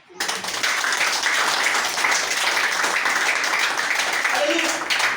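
A church congregation claps and cheers during a French-language worship service, a dense, steady wash of applause from a large crowd that holds at full level for several seconds, with faint voices mixed in.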